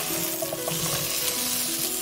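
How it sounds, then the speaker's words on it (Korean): Soaked potatoes go into a hot frying pan with cooking oil and perilla oil over medium heat, giving a dense, continuous sizzle up close that holds steady for a couple of seconds with no voices. "달궈진 후라이팬에 건져놓은 감자를 넣어줍니다"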